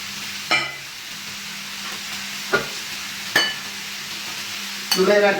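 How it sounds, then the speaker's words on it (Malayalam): Chopped onions frying with ginger and garlic for crab roast, a soft steady sizzle broken by a few sharp spoon clinks and stirring knocks against the pan, with no talk. "അതിലേക്ക് നമ്മൾ അരിഞ്ഞു വെച്ചിരിക്കുന്ന സവാള ഇട്ട് കൊടുക്കാം"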